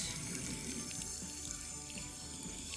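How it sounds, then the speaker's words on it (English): Water pours steadily onto micro-green seeds in a growing tray, making a continuous close splashing hiss with no talking. "So just give it a good water."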